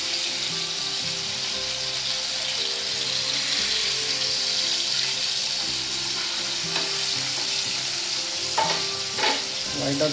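Chicken pieces fry in a pan with curry leaves for a stone-roast style dish, giving a loud, continuous hissing sizzle close by, with a few sharp clicks and spatters near the end and no talking.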